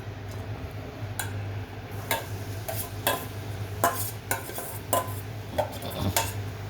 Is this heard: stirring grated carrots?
yes